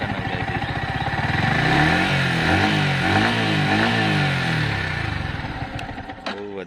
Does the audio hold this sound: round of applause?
no